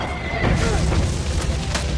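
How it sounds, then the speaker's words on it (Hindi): A horse in The Revenant whinnies in panic as it plunges into a deep ravine, its cry mixed into a loud, dense rushing and crashing din that lasts throughout. "लियो अपने घोड़े के साथ हजारों फीट नीचे जा गिरा"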